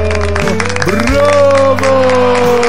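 Huge applause in an audio story, with crowd clapping and cheering under music with sustained tones and sliding pitches.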